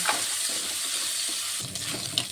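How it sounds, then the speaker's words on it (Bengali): Prawns rubbed with salt, turmeric and chili powder fry in hot oil in a home kitchen, giving a steady, close, even sizzle with no talking. "এই তেলের মধ্যে আমি চিংড়ি মাছটি ভেজে নেব।"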